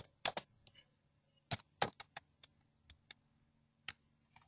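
Keys on a computer keyboard are struck while a command is typed at a prompt, with sparse, crisp clicks in short bursts and pauses, close and fairly quiet in an otherwise silent room.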